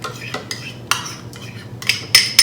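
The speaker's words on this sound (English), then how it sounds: "we're gonna add our vanilla yogurt to our blender" Vanilla yogurt is spooned into a blender while making a blueberry smoothie, giving a series of close, sharp clinks and scrapes of a utensil against the container, irregularly spaced and growing busier toward the end.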